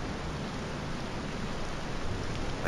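Steady broadband hiss of rain falling in the video game Morrowind, an even, continuous wash of noise with no talk over it.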